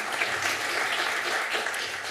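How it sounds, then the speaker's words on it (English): Audience at a Costa Mesa city council meeting applauds, a steady wash of many hands clapping that holds throughout at moderate volume in an indoor chamber, with no talk over it. "give them a round of applause."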